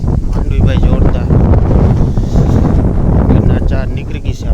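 A strong, cold wind on open farmland buffets the microphone in loud, rumbling gusts throughout, with someone talking under the roar.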